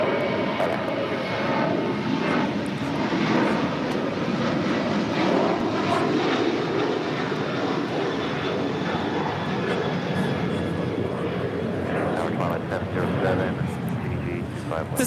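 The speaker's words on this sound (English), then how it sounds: "This is American Airlines 2780 departing to Austin on the 737-800." An American Airlines Boeing 737-800 departing LAX for Austin, its jet engines producing a broad, steady roar that holds strong throughout with a faint whine on top, heard from the ground at moderate distance.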